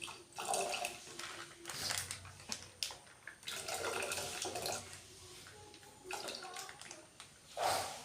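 Half a litre of Nandini milk poured into a pot of cooked rice for milk payasa, a gurgling liquid pour with splashes that stops and restarts, with a voice talking over it.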